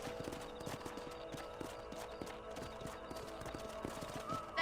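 Horse hooves beat in a steady, rhythmic gallop in the video game Red Dead Redemption, with faint game music and ambience underneath and a brief louder sound at the very end.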